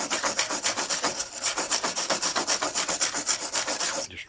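A brush scrubs rust off small disassembled Mopar distributor parts in fast, even back-and-forth strokes, close and loud, ending abruptly.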